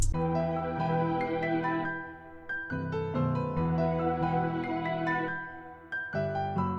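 Piano melody layered over sustained suspended synth pad chords from Analog Lab in a hip-hop beat setting, with rich layered harmony, fairly quiet and without any voices.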